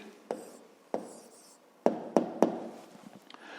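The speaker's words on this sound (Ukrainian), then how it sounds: "Ну що ж, записуємо тоді відповідь." Pen strokes on paper as an answer to a fifth-grade math problem is written down: soft scratchy scribbling broken by several sharp taps, close and quiet, with no voices.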